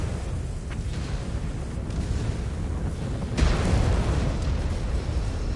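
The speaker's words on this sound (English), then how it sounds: "Incoming missile." A missile impact explosion in the game MechWarrior 5: Clans on hard mode: a low, steady rumble of battle that swells into a heavy, booming blast partway through, loud and with no voices.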